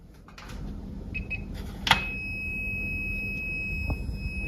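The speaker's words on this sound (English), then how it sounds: "I use this simple voltage tester to check." A handheld voltage tester held to a live wire gives short electronic beeps, followed by a sustained high tone that continues to the end, fairly faint over a low background hum while a range hood is being installed.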